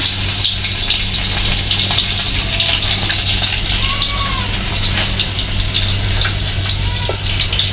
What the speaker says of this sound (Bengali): এখন রান্না করা হবে শোল মাছের ভর্তা পেঁয়াজ দেওয়া হচ্ছে